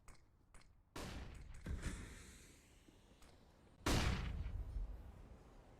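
Gunfire in Counter-Strike: Global Offensive during a competitive esports match: a couple of sharp, reverberant shot bursts stand out over a quieter background of distant game noise.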